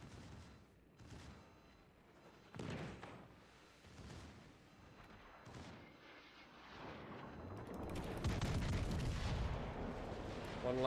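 A warship's main battery guns fire in World of Warships Legends, a series of heavy booms spaced a second or two apart, building into a dense, loud barrage of overlapping blasts toward the end.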